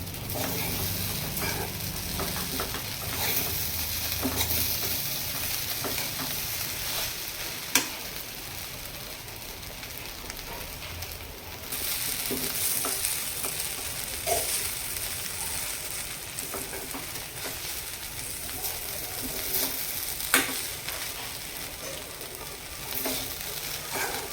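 Onion poha mixture stirred in a pan, a quiet steady sizzle with scattered scraping and clinking of the spoon against the pan over about twenty seconds, no talk.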